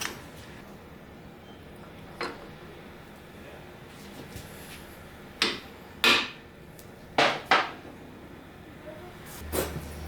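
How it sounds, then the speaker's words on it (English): A Chevy 372 engine's crankshaft is knocked backwards with a hammer while main bearing clearance is checked, giving sharp metallic blows: a few isolated hits, then a quick cluster of four near strikes over low background hiss. "Bash the crankshaft backwards because there's no dowels or lining."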